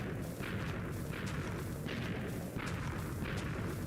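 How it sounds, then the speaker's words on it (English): Repeated Minecraft explosions boom in the background, a steady rumbling barrage of dull blasts at a moderate distance with no talk over them. "This feels so good, just walking and hearing the explosions behind me."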